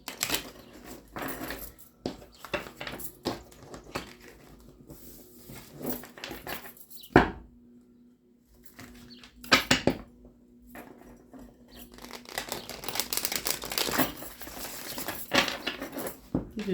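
Tarot cards being shuffled close up: bursts of crisp riffling and slapping card sounds, with a short quiet pause in the middle before shuffling resumes more steadily.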